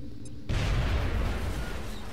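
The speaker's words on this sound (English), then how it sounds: "I'm gonna use the HE grenades I took for my Rocketeers to do it. Going to break down the walls." In the XCOM video game, an HE grenade explodes to break down walls: one sudden loud blast followed by a rumbling, crumbling roar that carries on after it.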